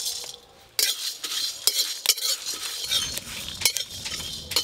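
Whole garam masala, coriander, cumin, fennel, peppercorns, dried chillies and bay leaves dry-fried in a pan, stirred continuously with a spoon, giving close, steady rattling scrapes with sharper clinks against the metal.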